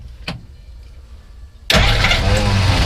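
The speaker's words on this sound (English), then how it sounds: "So let's go ahead and fire up." A 1957 Willys Jeep FC150 forward-control truck with an added electric fuel pump: a faint buzz and brief click come first, then the engine catches and settles into a loud, steady, rumbling idle close by.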